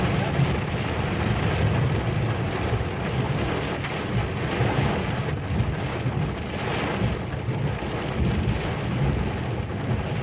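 Severe thunderstorm over Burleson, Texas, in July 2016: a dense, steady roar of heavy rain with low rolling thunder underneath, loud and continuous throughout, with no voices.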